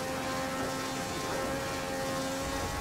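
A 1938 race car on the Donington circuit in the Assetto Corsa driving game holds a steady, buzzing engine drone at about 10,000 rpm, even and unbroken from start to finish.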